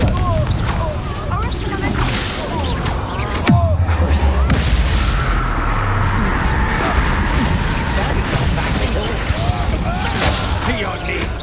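Confringo blasting spells explode during combat in Hogwarts Legacy, with loud booms, whooshes and crashes in a busy battle mix, and voices speaking over it.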